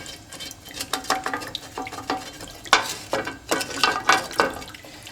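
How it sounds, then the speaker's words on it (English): A spoon scrapes browned bits and a stuck rosemary sprig from the bottom of a pan of chicken drippings for a sauce, making rapid repeated scrapes over a soft sizzle, close and fairly loud. "Take my spoon. Scrape up the bits from the bottom."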